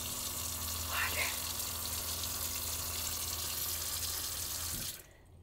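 Water from an Airstream RV faucet, fed by the water pump, rushes steadily and close with a faint hum beneath. The flow cuts off abruptly just before the end.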